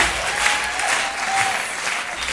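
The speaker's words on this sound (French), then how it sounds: "on peut l'applaudir." Audience applauding as a comedian is introduced at a stand-up show, steady dense clapping throughout with no talk over it.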